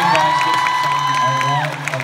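A concert crowd at a world tour show cheers and applauds loudly, with a sustained tone running through the roar before it tapers off.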